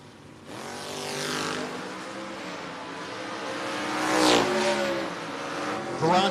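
Two drag race cars, an '86 Mustang and a COPO Camaro, launching side by side at a No-Box 660 shootout, with loud rising engine roar and rapid gear-change sweeps, then a second surge of revving near the end.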